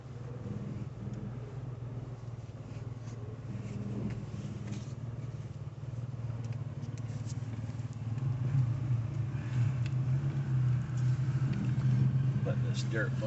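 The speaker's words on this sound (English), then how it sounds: "Let this dirt bike by us." A dirt bike engine drones in the background at an off-road park at Holly Oaks, a steady mid-pitched rumble that grows slightly louder as it approaches, heard alongside a vehicle's engine.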